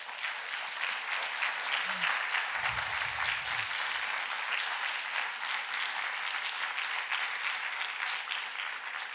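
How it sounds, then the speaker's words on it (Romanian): Audience at a talk applauds to welcome a speaker, a continuous wash of many hands clapping at a moderate, fairly distant level, briefly joined by a low murmur near the start. "Haideți să-l aplaudăm."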